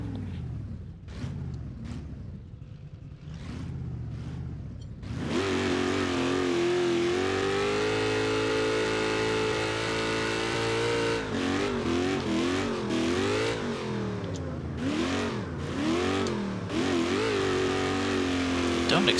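A virtual truck engine in BeamNG revs while drifting in two-wheel drive, with sharp throttle blips first, then a sustained loud roar and repeated rising and falling revs; a voice talks throughout.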